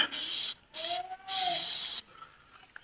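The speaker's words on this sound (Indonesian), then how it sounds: "Ini ada pohon alpukat, kita semprot juga agar daunnya tidak terganggu." A sprayer mists NPK fertilizer onto avocado tree leaves in three loud hissing bursts, the middle one carrying a faint whine, followed by quiet.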